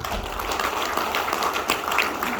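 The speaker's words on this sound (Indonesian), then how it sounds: "Beri aplaus ya." Audience applause at an Indonesian business event in a hall, a steady wash of many hands clapping at moderate volume with no break.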